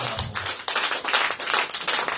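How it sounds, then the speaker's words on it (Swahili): A church congregation at a Sunday service claps continuously, dense overlapping hand claps building into loud, close applause. "Hebu mpigie Bwana makofi makubwa"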